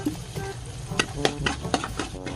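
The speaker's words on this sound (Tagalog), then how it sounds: "Mainit na yung mantika. Ilalagay ko na yung bawang." Garlic goes into hot oil in a pan for a sauce, a close, steady sizzle with a series of sharper crackles and utensil clacks at an irregular rhythm, no voices.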